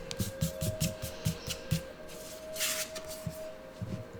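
Tarot cards shuffled by hand in a quiet room, a quick run of soft papery riffles and flicks, then a brief louder rustle and a few scattered taps as cards are drawn.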